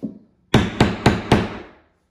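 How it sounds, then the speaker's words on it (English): Four sharp, evenly spaced hammer blows strike a screwdriver to knock off its tip while patching a hardwood floor. Each crack rings briefly and decays, close up, after one softer tap. "screwdriver, my hammer, kind of knock the tip of it off"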